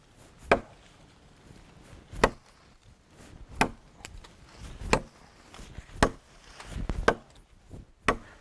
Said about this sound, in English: let's just start chopping on the wood here